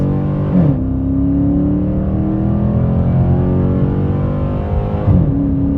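A Chrysler 300C SRT8 with a 6.1L Hemi V8 and Dynomax Race Bullets exhaust accelerates hard, a loud close deep engine roar rising steadily in pitch through the gears, with brief shift breaks between pulls.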